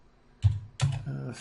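Quiet keystrokes on a computer keyboard as a layer name is typed in image-editing software, a few short clicks in quick succession, close and alone.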